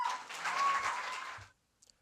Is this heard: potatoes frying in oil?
no